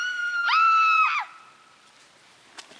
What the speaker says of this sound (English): Then I heard people screaming.